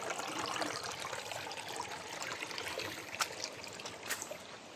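Water is splashed and trickles over gemstone rocks outdoors, a soft steady dribbling wash with a couple of brief sharper splashes near the end, fairly faint and without talk.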